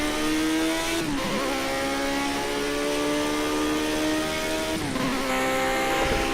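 A 1972 Lotus D-Type racing car in Project CARS 2 at Fuji GP, its engine howling loud and close as it climbs through the revs, dipping twice at gear changes before pulling hard again.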